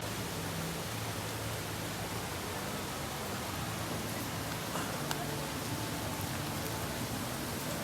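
Steady rain falls outdoors beside a theme-park construction site, a continuous broadband hiss with no clear gaps, moderately loud and unbroken by talk.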